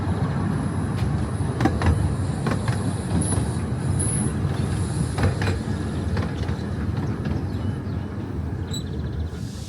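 A Ravenglass and Eskdale Railway train pulls away from the Green and climbs the steep grade up Holland Howe. Wheels clatter and rumble steadily throughout, with occasional high squeals over the continuous rolling noise.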